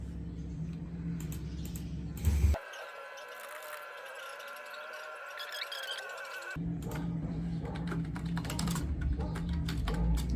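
Typing on a computer keyboard in steady bursts of close clicks, with a stretch where a sustained tone covers most of the keystrokes.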